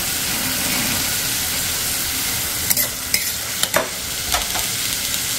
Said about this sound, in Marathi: आपण 4-5 चमचे तेल टाकलेले आहे. आता आपण अगोदर बटाटे टाकणार आहे.